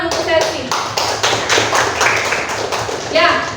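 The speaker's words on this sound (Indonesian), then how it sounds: "Tepuk tangan untuk Selvi" A classroom of students claps for a classmate named Selvi, a brisk run of overlapping hand claps that continues steadily throughout, with a voice heard over the clapping.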